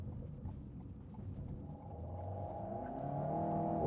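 An Alpine A110 S lightweight sports car on a country B road, its engine droning low and then climbing in pitch as it revs harder, growing louder toward the end with no talking.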